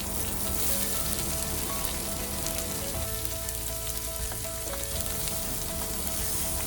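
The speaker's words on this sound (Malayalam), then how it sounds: "ഇനി അടുത്തത് കുറച്ച് സവാള ചേർക്കാം." Sliced onions frying in hot oil in a pan for mutton curry, a dense, even crackling sizzle heard up close throughout, rain-like and without a break.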